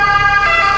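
A steady, loud ambulance siren on a street in Naples, Italy, sounding as a continuous bright wail with no talk over it.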